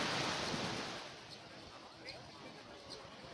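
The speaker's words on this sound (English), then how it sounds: "you can hear the waves because the beach is just right behind me." Ocean waves wash onto a resort beach where people swim, a broad steady surf roar that is loudest at first, then settles into a softer continuous wash with faint higher splashes.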